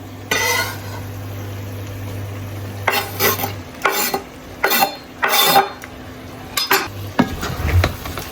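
Food crackles and sizzles in a pan, broken by repeated bursts of stirring and metal utensil scraping, over a low steady hum.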